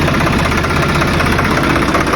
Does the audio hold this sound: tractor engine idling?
yes